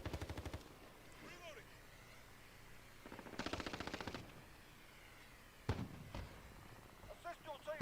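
Bursts of gunfire in a first-person shooter video game: a rapid automatic burst at the start, a longer rattling burst midway and a sharp single report near the end, with quieter game sounds and low voice chatter between.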